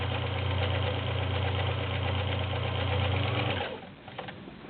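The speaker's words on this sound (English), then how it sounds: "There's your multi-point zigzag, 3 up, 3 back, 3 back and forth." Vintage Kenmore model 1601 sewing machine stitching a multi-point zigzag on a tabletop, a steady rapid mechanical hum and needle chatter running for about three and a half seconds, then stopping into faint clicks.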